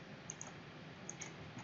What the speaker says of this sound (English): you click to start, click to end, click to start, and click to end